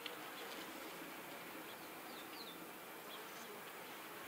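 Honey bees buzz steadily inside an open horizontal hive full of brood, a soft, continuous hum that stays faint and even with no talking.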